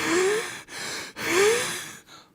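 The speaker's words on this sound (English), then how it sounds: "wheezing," Two long, strained breaths carry a thin whistling wheeze, close and clear, with a short pause between them and a faint breath at the end.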